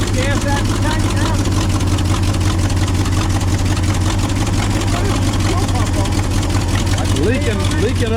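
A 1968 Ford F100 pickup's engine idles steadily, a low, even rumble running continuously and close, with people talking over it.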